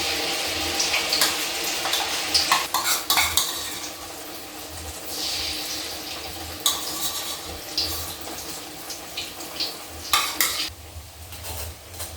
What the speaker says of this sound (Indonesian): Aku pakai buat goreng tempe